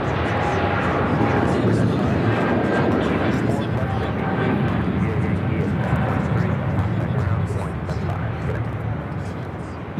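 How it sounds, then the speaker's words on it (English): An Air China Boeing 777-300ER takes off at an airport, its broad jet roar rumbling loudly and steadily for the whole stretch. A voice talks over it at points. "On the south side, we have Air China 777 taking off now."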